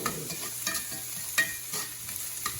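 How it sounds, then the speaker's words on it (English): Shrimp for shrimp and grits being stirred and fried in a hot pan, a steady sizzle broken by soft scraping strokes of a utensil every half second or so, close and moderately loud with no talking. "We're gonna add all this to the pan. We're just gonna start moving this around."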